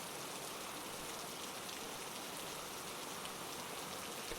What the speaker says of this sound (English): the rain is pouring down onto the roof of the waiting room